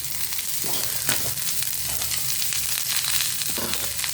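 Steady, dense sizzling of chopped green beans frying in hot oil with popped mustard seeds, close by, with occasional crackles and pops and no voices.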